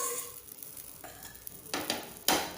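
A no-dough paratha fries in a pan with a soft sizzle that swells into two louder hissing bursts near the end.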